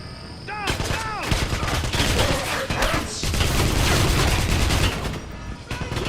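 Sustained gunfire in a Wolfenstein shooter, a dense, loud barrage of rapid overlapping shots and bursts with mechanical clatter that continues almost without pause.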